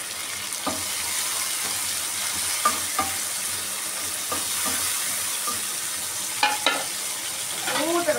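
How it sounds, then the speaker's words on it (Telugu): Tomatoes fry in a pan for a ridge gourd chutney with a steady, close sizzle. Occasional clinks and scrapes of a stirring spoon against the pan sound over it. "టమాటాలు వేసేసుకున్నామండి"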